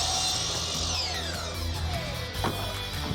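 A power saw cuts steadily through wood, its high whine dropping in pitch as it bites in, loud and close.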